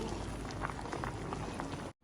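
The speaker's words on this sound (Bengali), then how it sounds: "এবার একটা ছাঁকনিতে পানিটা ছেঁকে নিচ্ছি।" Water from part-cooked rice for kacchi biryani pours through a strainer in a steady, close, rushing splash that runs evenly before stopping sharply.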